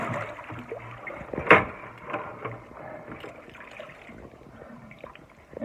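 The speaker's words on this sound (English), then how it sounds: "So we're going to dump our water in here." Water is dumped into a bathtub and drains away, with one loud splash early on followed by softer gurgling and trickling close by.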